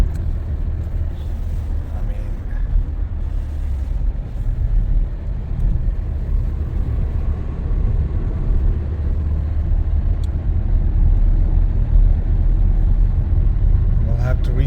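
A 2016 Hyundai Sonata hybrid is driven on the road, with a continuous low rumble and road noise heard from inside the cabin and holding steady throughout.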